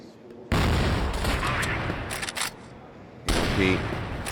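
Gunfire from the battle-royale video game Free Fire during a 4v4 esports match, a loud sustained burst of rapid shots from about half a second that fades, then returns in a second dense volley near the end.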